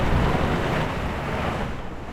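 Strong wind roars across the microphone while waves wash and slap around a sailboat under a double-reefed main in winds near 27 knots at sea, loud and continuous.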